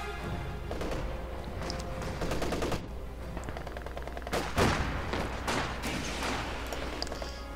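Artillery gun bombardment in a World War II strategy game, with repeated booming shots and rattling gunfire in irregular bursts, some blasts close and sharp, others distant, layered over a continuous low rumble.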